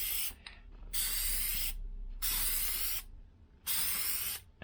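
Plasti Dip spray can spraying onto newspaper while coating a Tesla Model 3 badge and lettering, three separate bursts of close, loud hissing, each lasting around a second, with quiet gaps between.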